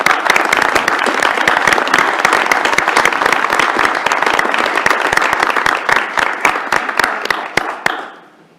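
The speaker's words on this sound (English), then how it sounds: "Let's give our presenters a round of applause" An audience at a university board of regents meeting applauds its presenters with loud, dense clapping that holds steady for about eight seconds, then fades out.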